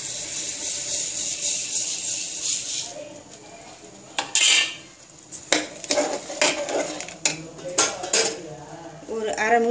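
Millet is tipped into a pot of boiling water, with metal clinks and scraping of a utensil against the pot in short irregular bursts, close and fairly loud over a low background hiss.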